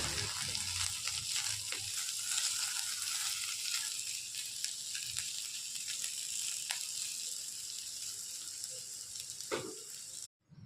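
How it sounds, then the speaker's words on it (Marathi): Ivy gourd (tondli) frying in a pan over medium heat, a constant soft sizzle with occasional scraping stirs, cutting out abruptly just before the end. "हे बघा आपली तोंडली अशी छान फ्राय झालेली आहेत पूर्णपणे"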